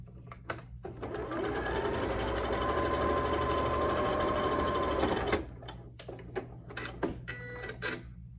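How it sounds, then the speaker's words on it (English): A sewing machine stitches quilt block pieces together along a seam, a fast steady mechanical whir for about five seconds, then stops, followed by a few light clicks and handling taps. "I'm going to sew them together, right sides together down that seam that was in the middle"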